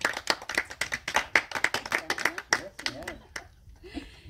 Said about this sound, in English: Give them a hand and an applause.